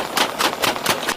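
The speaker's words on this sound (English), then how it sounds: "shots rang out." Rapid gunshots from police officers crack in a fast volley, about five sharp bursts in just over a second, loud and close with no talking.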